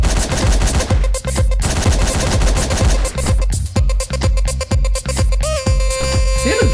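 Dense, loud bursts of gunfire in the top-down action game Hotline Miami, rapid machine-gun-like shots in repeated volleys over a pounding game soundtrack, with a sharp electronic tone near the end.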